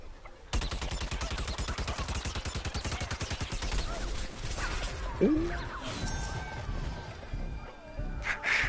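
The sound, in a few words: gunfire in the video game Plants vs. Zombies Garden Warfare 2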